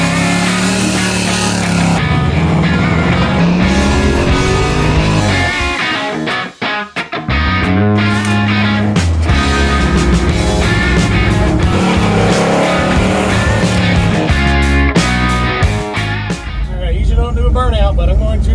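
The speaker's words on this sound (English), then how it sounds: "go bracket racing at Music City Raceway, Tuesday night, 8th mile drag race with my 64 Chevelle station wagon" A 1964 Chevelle station wagon's engine roars and revs at a Tuesday-night eighth-mile bracket drag race at Music City Raceway, loud and continuous with a brief dip partway, mixed with talk.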